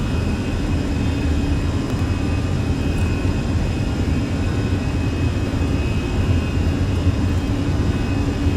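Simulated airliner jet engines in Flight Simulator 2020, flying from Manchester to Belfast, spool up evenly during the takeoff roll. They make a steady, loud, continuous roar with no talk over it.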